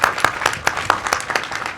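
Applause from a small group at a European political forum, with about eight distinct claps in a loose, uneven rhythm, moderately close and alone with no talking.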